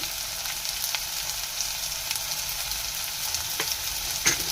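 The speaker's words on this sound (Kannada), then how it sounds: "ಬೆಂಡಿಗಾಯಿ ಹಾಕೊಂಡು ಮತ್ತೆ ಫ್ರೈ ಮಾಡ್ಕೊಳ್ಳಿ" Okra frying in a pan with salt and turmeric, a steady soft sizzle that holds throughout, with a few faint stirring clicks near the end.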